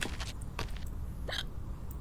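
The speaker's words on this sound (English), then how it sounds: "I heard hiccups." A sick patient in the video game Quarantine Zone: The Last Check hiccups several times in quick, uneven succession, each hiccup a short, sharp catch, close and clear with no talking over it.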